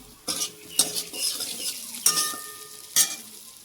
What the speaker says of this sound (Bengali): এদিকে জিরার গুঁড়ো, একটু সবজি মশলা দিয়ে হালকা ভেজে দিব।